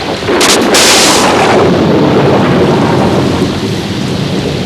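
A thunderstorm rolls with loud, close thunder and steady heavy rain, a sharp crack opening into a sustained deep rumble under constant rainfall, in a 1992 animated series.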